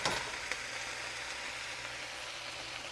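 Meat browns in a pan for spaghetti sauce, a steady close sizzle and crackle that holds level throughout with no talk over it.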